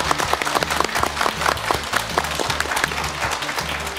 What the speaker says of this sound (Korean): 세 분께 큰 박수 보내드리겠습니다.